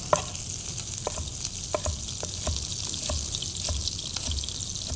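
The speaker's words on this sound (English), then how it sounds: "Now, fish is nice and seared." Fish sears in a hot pan with a steady, close sizzle and fry hiss, broken by scattered clicks and light taps of a utensil. No one speaks.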